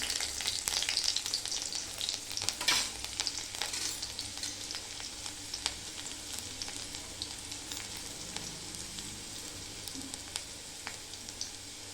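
Garlic fries in hot oil with cumin and mustard seeds. A steady, close sizzle with scattered sharp crackles and pops carries on for about twelve seconds, with no talking.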